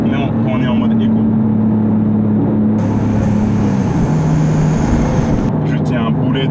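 A Porsche 911 GTS engine pulls hard under acceleration from inside the cabin, a loud steady drone whose pitch climbs then shifts as gears change, with a voice talking over it.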